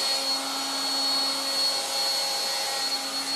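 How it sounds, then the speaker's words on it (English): A 1960s Dateline vintage hairdryer runs with a steady whirring motor and a thin high-pitched whine, a constant close drone throughout. "It'll probably take ages to dry my hair."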